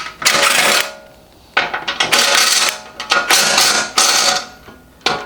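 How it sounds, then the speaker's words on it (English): A wrench loosens and removes two bolts from the side member of a worn, cheap golf cart, giving loud close metallic ratcheting and scraping in several bursts separated by short pauses. "I just got these two bolts right here to take off, and this side member will come off now."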